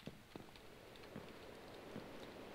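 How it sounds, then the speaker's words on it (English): Soft, steady rain falls in a video game, a faint hiss with scattered light drip taps throughout, no talking. "It's raining"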